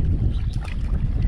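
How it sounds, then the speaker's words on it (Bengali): Wooden country boat shoved by hand from a sandy bank into a river on a remote char island, giving a steady close rush of water and scraping hull noise with wind buffeting, no talk. "ঠেলা দিয়ে নৌকাটা মোটামুটি একটু জলের মধ্যে নিয়ে তারপরে লাফিয়ে উঠে পড়বে।"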